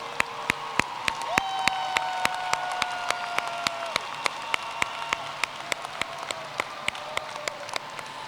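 Audience applause at a Green River College commencement ceremony, a steady wash of clapping from a large hall with a few sharp individual claps standing out near the microphone and faint sustained tones beneath.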